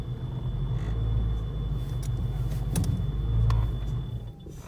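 A Foxbody Ford Mustang engine idles with a low, steady rumble that sputters and stalls out near the end from a fuel trim and TPS fault, with no one speaking.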